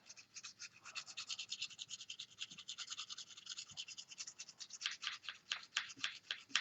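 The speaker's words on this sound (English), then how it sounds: "What this stone does is it pulls off just a small amount of metal" Garden pruners are sharpened on a sharpening stone in quick repeated rasping strokes, a close, steady scratching rhythm that speeds up toward the end, with no talking.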